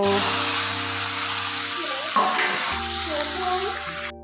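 Chicken pieces dropped into hot oil in a home kitchen pan, a loud continuous frying hiss close up, with faint tonal hum and a brief clatter midway.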